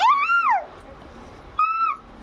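A voice imitates a peacock call, two rising-falling nasal cries, the first long and loud, the second shorter, with a pause between them.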